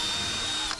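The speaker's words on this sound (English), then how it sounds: "Drill out my guide hole." A power drill bores a guide hole for a door handle on a blacked-out Jeep Wrangler JK Unlimited, giving a short, steady whir that stays close and loud, then cuts off abruptly.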